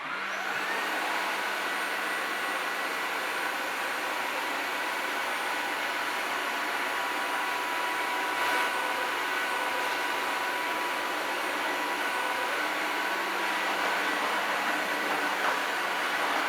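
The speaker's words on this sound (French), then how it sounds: "Maintenant, on va aspirer le liquide." A Dreame H12 Dual cordless wet-dry floor washer drawing up spilled liquid, its motor a loud, steady whining roar with a hissy suction edge that holds unbroken throughout, with no one talking.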